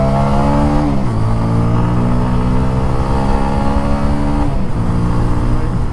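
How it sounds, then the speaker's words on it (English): A TVS RTR 200 4V Race Edition 2.0 motorcycle roars loudly while being ridden, engine pitch climbing steadily and dropping at two gear shifts, close and continuous. "I'll be showing you a pure exhaust note of this motorcycle."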